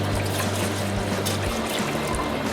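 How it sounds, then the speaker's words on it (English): Milk pours and is whisked into a saucepan while making a cheese sauce base for smoked mac and cheese, a steady liquid trickle and swish running continuously at close range with no talking. "So we're going to add 3 cups of milk to our saucepan here."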